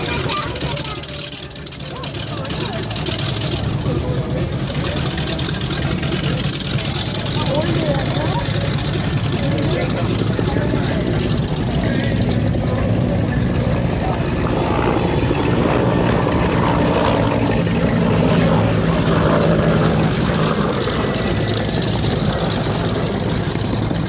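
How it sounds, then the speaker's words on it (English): A Bell UH-1 Huey helicopter arriving at an air show in Peachtree City, Atlanta, in 2014: steady loud rotor and turbine roar that holds throughout, with a voice talking over it. "This second Huey coming in is 624."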